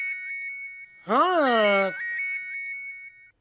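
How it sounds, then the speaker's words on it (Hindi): A mobile phone ringtone trills in short repeating electronic tones at moderate level, briefly masked by a loud sung or shouted voice in the middle, with the ring continuing afterward in an indoor comedic scene. "कहीं फोन की रिंग बज रही है ना?"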